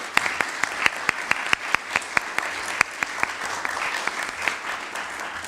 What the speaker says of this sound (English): may we just give them a round of applause